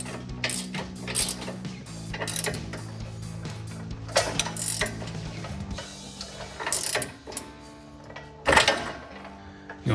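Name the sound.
wrench tightening bolt on F-150 upper control arm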